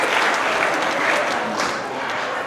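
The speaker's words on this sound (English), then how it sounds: "One more round of applause" Sustained audience applause from a crowd at a trucking company's monthly celebration event, steady dense clapping filling the room throughout, loud and close.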